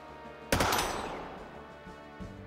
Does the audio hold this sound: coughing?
no